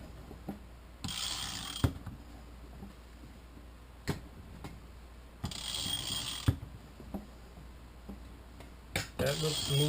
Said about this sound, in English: check that the crankshaft turns smoothly